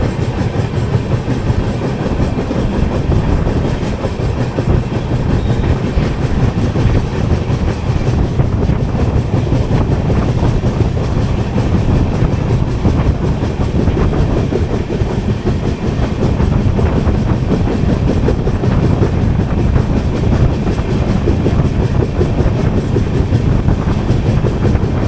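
The 12777 Hubballi–Kochuveli Weekly Express rolls toward Tumkur station, heard from inside an AC Economy coach as a loud, continuous rumble with rattling wheel noise throughout and no talking.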